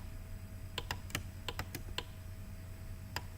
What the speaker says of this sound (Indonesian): tekan tombol shift pada keyboard kalau mau bersamaan, shift pada keyboard